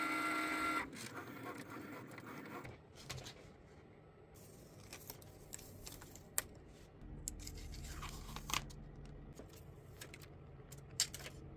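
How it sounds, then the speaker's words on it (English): Cricut cutting machine scoring and then cutting paper for a paper rose bouquet, giving a steady mechanical whir with small clicks and ticks that come and go throughout. "when it's done with the score lines, it just begins cutting and there's no need to change tools"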